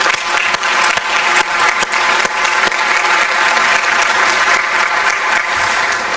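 An audience at an IAEA conference bursts into loud, sustained applause, a dense patter of many hands clapping close by with a few sharper individual claps.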